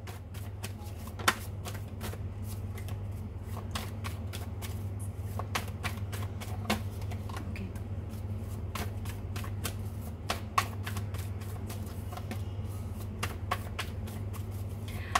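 Tarot cards are shuffled by hand in a quick, steady run of crisp flicks and riffles over a constant low hum, with no talking.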